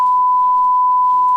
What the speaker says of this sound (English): Why did you beep?